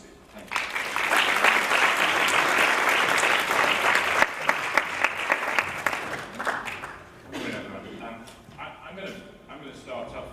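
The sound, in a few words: audience applause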